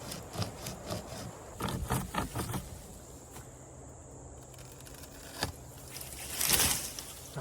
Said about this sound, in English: You wrap it around the tree, hold these two handles, and then you saw.